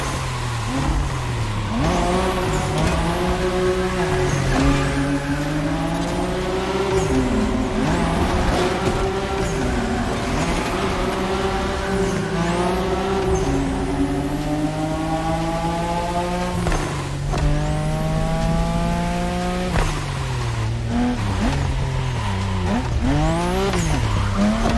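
Cars drifting in The Crew Motorfest, oversteering through corners, give loud continuous engine revs with repeated gear-shift pitch sweeps and long tire squeals, steady and close with no talking.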